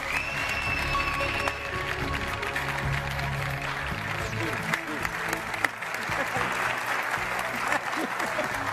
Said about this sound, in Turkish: Sayın Can Yılmaz, alkışlarınızla.